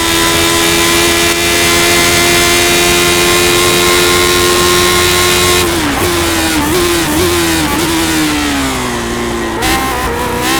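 A Lotus 79 race car engine in the iRacing game drones at a steady high pitch, then drops and wavers as it slows into the pits, with gear shifts and revving.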